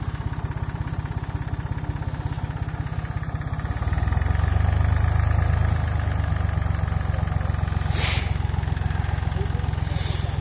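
A Massey Ferguson 255 turbo tractor engine runs steadily at a low idle, getting louder partway through and holding a constant rumble, with no voices.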